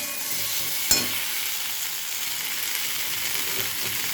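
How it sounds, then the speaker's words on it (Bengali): Vegetables for shukto, with salt added, sizzle softly in a pan, giving a steady low hiss with one sharp clink of a spoon or spatula against the pan near the start. "নুন দেওয়ার পর ভালো করে নুনটাকে মিশিয়ে নিলাম।"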